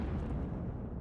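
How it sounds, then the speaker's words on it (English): Explosion in the video game Sundered: a dense, low, rumbling blast that fills the short moment at steady loudness, with no talking. "That looks like a bad explosion."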